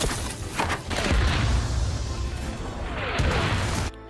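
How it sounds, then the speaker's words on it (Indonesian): Rapid machine gun fire and explosive crashes in an intense war-film battle scene, a dense continuous barrage of shots and booms at close range that cuts off abruptly at the end. "tiba-tiba mereka ditembaki musuh dengan menggunakan tembakan mesin dari arah depan"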